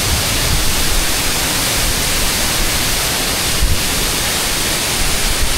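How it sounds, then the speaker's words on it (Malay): Waterfall on a mountain hiking trail in Terengganu, heard as a loud, steady broadband rush of falling water with no pauses and no voices. "Lepas tu korang boleh tengok lah yang air terjun tu."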